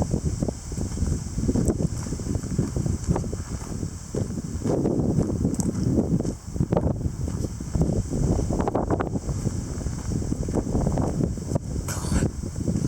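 Strong wind blows at night during a rainy storm, a continuous rough rush with gusty surges and buffeting across the whole stretch, with no voices.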